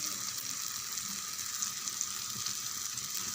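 Tomato thokku sautéing in oil in a pan, giving a steady, close, even sizzle with a faint bright crackle throughout and no voices.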